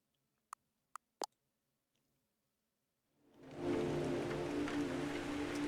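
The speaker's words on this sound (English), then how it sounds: "It's heavy rain!" Heavy rain in the video game The Stanley Parable: Ultra Deluxe begins as a swelling wash of steady downpour that holds loud and dense, preceded by a few sharp clicks.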